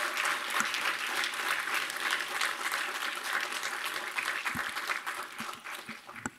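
Sustained audience applause at a student film festival honoring Bay Area student filmmakers, a dense steady wash of many hands clapping that tapers slightly near the end, with no talk over it.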